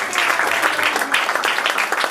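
A church congregation at a Christian café gathering in Rennes breaks into steady, dense applause with cheering mixed in, filling the room continuously.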